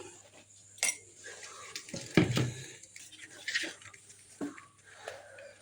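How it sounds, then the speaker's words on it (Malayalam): Water poured a little at a time into ration-shop wheat flour with salt in a bowl, stirred with a spoon, giving scattered clinks, scrapes and a brief watery splash near the mic. "കുറേശ്ശെ വെള്ളം ഒഴിച്ചിട്ട് ഇളക്കി കൊടുക്കുക"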